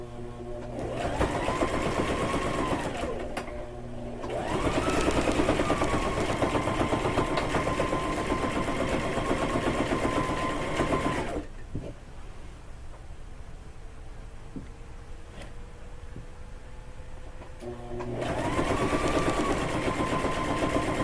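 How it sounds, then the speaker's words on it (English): A sewing machine straight-stitches the bottom of a quillow over polka dot fabric, running in steady loud bursts with short pauses between runs and a quieter stretch in the middle. "me finish sewing the bottom of this thing"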